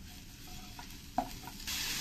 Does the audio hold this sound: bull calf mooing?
no